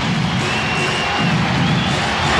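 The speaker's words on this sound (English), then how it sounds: "the crowd trying to get the Blazers back into it" A dense arena crowd at a 1992 NBA Finals game between the Chicago Bulls and the Portland Trail Blazers roars steadily for the home Blazers, a loud, continuous wash of cheering with no break.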